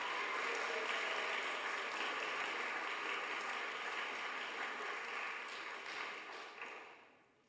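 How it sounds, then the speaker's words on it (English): Graduation audience applause, dense and steady at a distance, clapping continuously before tapering off and fading out in the last second or so. "So please give a round of applause for Morgan."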